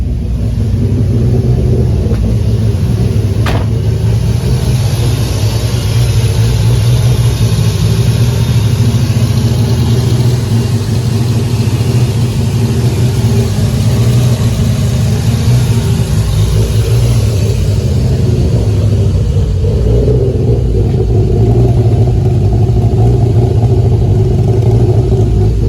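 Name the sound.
Toyota 2JZ engine running and revving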